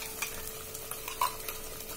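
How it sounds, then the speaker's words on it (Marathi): Ground masala paste is sautéed in oil, making a quiet, soft sizzle broken by light scraping and tapping from stirring, close and with no voices. "वाटण मसाला पण आता घालून व्यवस्थित परतून घ्यायचा आहे तेल सुटेपर्यंत।"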